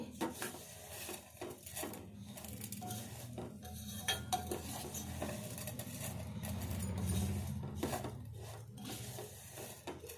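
Payasam ingredients frying in a pan, a spatula scraping and clinking against the metal over a low, continuous hiss, with no one talking.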